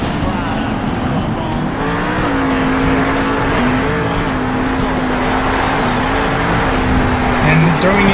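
A drift car at a Salt Lake City fun run revs hard through a smoky donut, a loud, close, sustained engine drone with wavering pitch, while a commentator talks over it.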